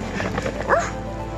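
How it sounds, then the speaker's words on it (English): A dreaming Doberman Pinscher lets out a single short, squeaky, high-pitched bark amid soft muffled sleep noises, close by, with no talk. "he has just like a little squeaky bark. He sounds like a little poodle when he's dreaming."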